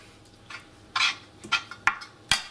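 A spoon scrapes and knocks against a pot while making mac and cheese, giving about six short, close clinks and scrapes at uneven intervals with no talking.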